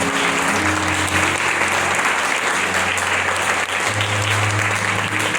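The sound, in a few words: congregation applause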